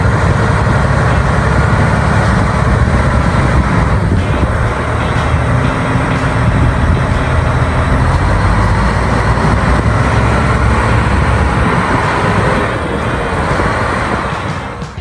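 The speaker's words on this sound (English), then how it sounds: "The engine sound is strong and consistent, conveying a sense of continuous power." A huge industrial mining truck engine running, a loud, steady low rumble that holds constant and close for the whole stretch with no talking.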